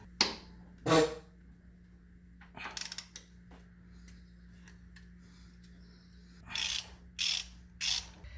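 A hand ratchet works on the power steering mount bolts of a 1987-91 Ford F-150, giving several separate bursts of sharp clicking, each a second or less, close by over a low steady hum with quiet spells between.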